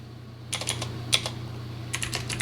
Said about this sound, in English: I'm just typing it into a Word document